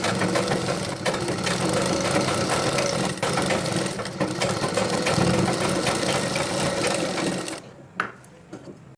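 A sewing machine runs steadily, stitching a chudidhar sleeve as a line of topstitching is sewn, with a continuous whirring hum and needle clatter that stops abruptly near the end, leaving a few faint handling clicks.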